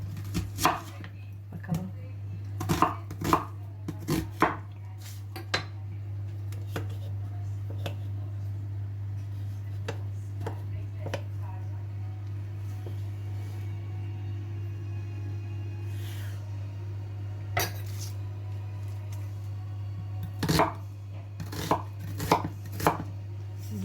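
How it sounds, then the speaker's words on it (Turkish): Rapid knife chopping of onions on a cutting board comes in bursts of quick, sharp taps, pausing for a stretch, over a steady low hum. "Önce soğanları doğrayayım, kavurayım."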